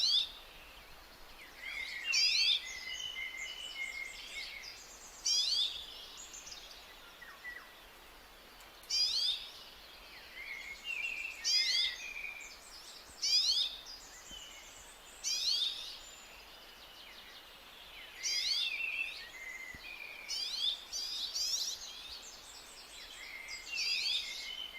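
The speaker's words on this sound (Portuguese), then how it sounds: "o som do pardal francês é este mais anasalado" Rock sparrow calls, nasal and buzzy, repeated in short bursts about every two to three seconds against a steady hiss, fairly close and clear with no voices.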